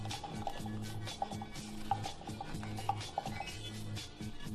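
Coffee grounds being stirred in an Aeropress, a quick run of quiet rhythmic scraping and light clinking of a utensil against the chamber, close and soft.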